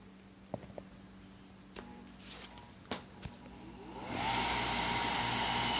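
A salvaged microwave oven fan spins up, its steady broadband whir starting about two-thirds through and holding loud to the end, after a few scattered clicks and taps.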